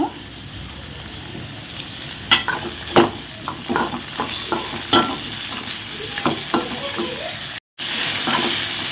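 Coconut pieces frying in a pan with a steady background sizzle, broken by several sharp scraping and tapping stirs, close up with no talking.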